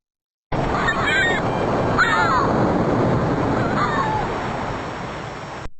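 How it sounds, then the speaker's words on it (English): Ocean waves and surf roar steadily and loudly in a constant wash, with a few faint bird calls above. "waves,"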